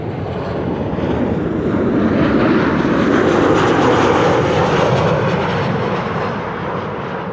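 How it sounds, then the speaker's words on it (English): A Transavia narrow-body airliner landing at Amsterdam Schiphol on a frosty, sunny day gives a loud, steady jet roar that swells slightly and holds throughout, with wind rumble on the microphone. "I'm skipping the Transavia that is now landing."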